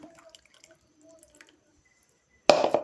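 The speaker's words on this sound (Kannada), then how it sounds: "ಜಾರನ್ನ ತೊಳ್ಕೊಂಡು ಸ್ವಲ್ಪ ನೋಡಿ ಇದರಲ್ಲಿ ನೀರನ್ನ ಹಾಕ್ಕೋತಾ ಇದ್ದೀನಿ" Water is poured into a rinsed mixer jar holding tomato and coconut chutney, a short splashing burst near the end after a few faint kitchen clinks.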